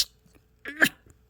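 A single human sneeze bursts out after a brief inhale, close and fairly loud, in an indoor room, followed by quiet.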